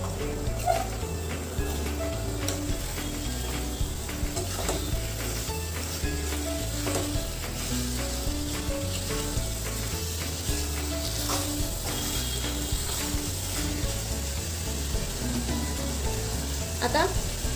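Chopped coriander and mint leaves sautéing in a pan for prawn biryani, a constant soft sizzle with occasional clicks and scrapes of stirring, fairly close over a low steady hum, no speech.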